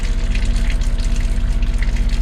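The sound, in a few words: pump emptying water out of a leaking tank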